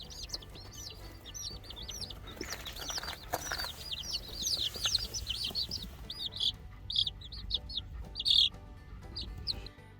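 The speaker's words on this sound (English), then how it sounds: "4 of them ended up to be roosters" A Silkie rooster, a young male homestead bird, gives repeated high clucks and chirpy calls in uneven bursts, close and fairly clear over a low background hum, growing busier toward the end.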